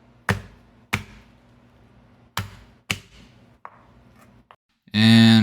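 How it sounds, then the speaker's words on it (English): Garlic smashed and chopped with a knife on a cutting board: a handful of sharp, separate thwacks spaced unevenly, followed by a short burst of louder noise at the end. "Now we'll prepare the garlic by first smashing it."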